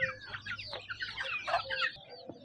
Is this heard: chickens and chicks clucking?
yes